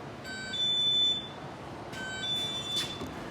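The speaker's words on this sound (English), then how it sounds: "that's my doorbell. Lets me know somebody's here." Two electronic doorbell buzzer tones ring out over a steady background hum, the first short burst followed by a second after a brief pause.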